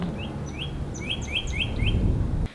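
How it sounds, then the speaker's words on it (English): Loud bird chirping outdoors: a series of short, rising tweets repeated in quick succession over steady low background rumble. "Gosh, why is that bird so loud?"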